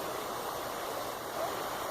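Continuous broad rush of creek water flowing in a New York State nature setting, a steady even wash without breaks, moderately loud and close.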